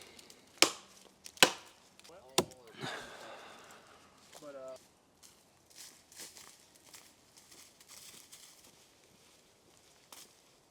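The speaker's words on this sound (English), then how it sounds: "We're going to continue chopping some firewood." Several sharp, loud axe strikes chopping firewood at a campsite on Cumberland Island, Georgia, ring out near the start, followed by quieter knocks and rustling with a voice in between.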